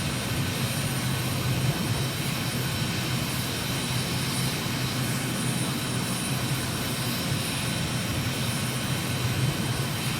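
Aircraft engine droning steadily as a plane flies orbits over Ashgabat at about 2,500 feet in Microsoft Flight Simulator, a continuous loud broadband roar with no talk.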